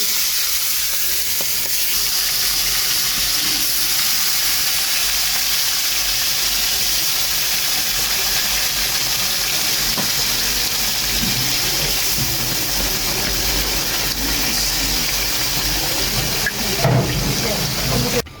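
Chicken pieces frying in a hot, oiled pan (kadai), giving a loud, steady sizzle and hiss that runs unbroken throughout, with faint stirring clatter near the end.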